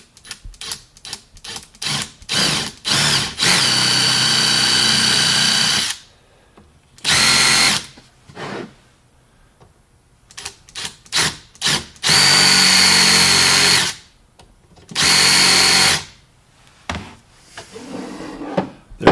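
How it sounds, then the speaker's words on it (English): A power drill boring small holes into a wooden drawer for undermount drawer slides, several sustained whirring bursts of a few seconds each separated by short clicks, handling knocks and pauses, close and loud with no talk. "We're going to drill a little hole on those marks"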